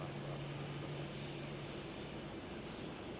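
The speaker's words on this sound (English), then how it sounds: "I love this plane, man, with the sound pack" Boeing 737-500 jet engines from a Microsoft Flight Simulator sound pack give a steady, broadband roar with a low hum, constant and moderately loud throughout, with no talk.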